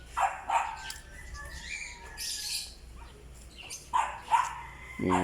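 Dog barking in short bursts during a pre-dawn dog catching, with other yelps and squeals mixed in, fairly close but irregular, with some background noise and possible faint voices.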